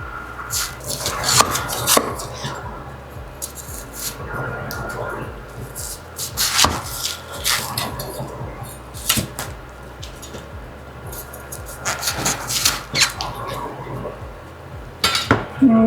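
A knife cuts cauliflower away from its greens on a board, giving irregular close clacks and crunchy thuds mixed with clinks of kitchenware, coming in short bursts with pauses between them.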